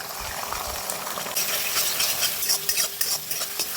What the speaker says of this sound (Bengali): গরম হয়ে গেছে, এবার আমি ডিমটা ভেজে নেব।